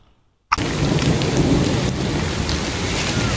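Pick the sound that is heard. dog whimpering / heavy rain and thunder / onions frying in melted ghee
heavy rain and thunder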